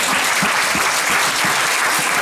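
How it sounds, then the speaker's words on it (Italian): Dense, steady applause from a festival audience in Turin rolls on without a break, a thick wash of many hands clapping at once. "se fate degli applausi noi siamo contenti"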